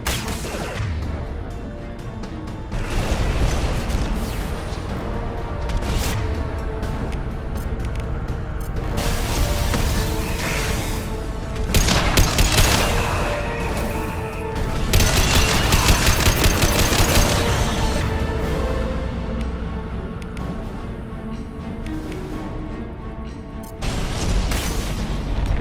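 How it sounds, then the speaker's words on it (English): Anti-ship batteries in Mass Effect 2 fire on a Collector vessel, giving loud, dense bursts of rapid gunfire and booming blasts that swell and recede across the scene, with near-constant heavy barrages and brief lulls. "Firing anti-ship batteries at collector vessel."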